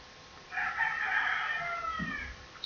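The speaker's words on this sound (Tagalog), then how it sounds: "Ayan ang mga manok, tumitilao." Chickens crow together in a Philippine rural setting, with a couple of drawn-out cock-a-doodle-doo calls that are moderately distant and steady, plus a faint low cluck near the end.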